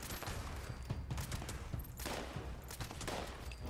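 Explosive assault rifle fire from the video game Fallout 76, a dense, continuous burst of shots and blasts that runs steadily throughout, loud and close with no speech.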